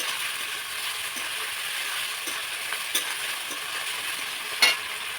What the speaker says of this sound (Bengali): এবার এটাকে কিন্তু সুন্দর করে নাড়াচাড়া করব, যাতে মশলাটা নিচে না লেগে যায়।